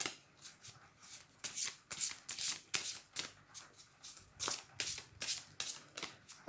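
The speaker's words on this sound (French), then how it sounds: "je fais un tirage, je mélange les cartes" Tarot cards are shuffled by hand in a quick, close, quiet flurry of crisp riffles and slaps. The sound comes in short bursts at an uneven rhythm, and no one talks.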